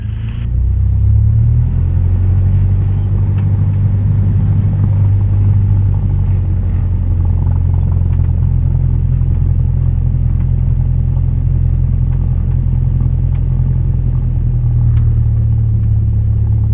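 A small single-engine training airplane powers up for its takeoff roll, a loud steady droning rumble close by with a firm low engine note that holds almost unchanged throughout.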